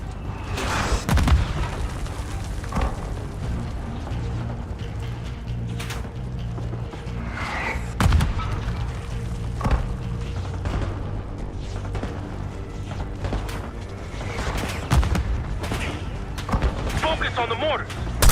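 Mortar fire and gunfire in a Call of Duty: Black Ops 6 campaign battle: repeated booming blasts and sharp shots crack out at irregular intervals over a rumbling battlefield, loud and near, with voices shouting between them.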